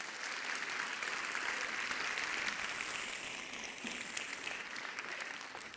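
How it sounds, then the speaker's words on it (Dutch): Steady applause from a children's audience at a university lecture for kids, filling the whole stretch at even, moderate loudness with no break and no talk over it. "Geef ze een groot applaus even."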